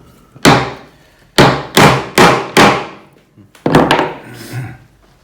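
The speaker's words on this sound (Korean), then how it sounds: "지금 망치로 때리니까 다 들어가게 됐어요" Mallet or hammer blows knocking a hand-cut wooden dovetail joint together: about seven sharp, loud wooden strikes in irregular groups, ringing briefly, with no talking.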